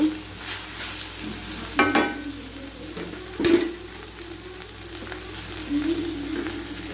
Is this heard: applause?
no